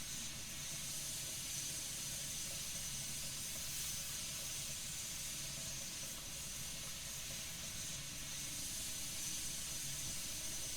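Steady, unbroken steam hiss from a machine in the puzzle game The Room 4, loud and continuous with a faint mechanical rumble beneath, no voices.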